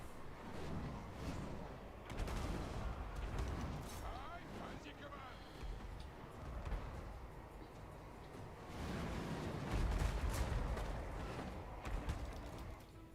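Brimstone gunshots ring out in a Warhammer II fantasy battle, sounding as repeated bursts of gunfire and booms over a busy battlefield din, with heavier volleys around the middle and end of the stretch.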